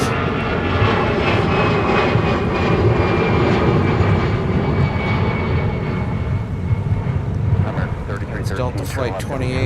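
A jet airliner takes off from a snowy Minneapolis–Saint Paul airport, its loud, steady engine roar filling the whole stretch with a rising whine, while a voice talks over it.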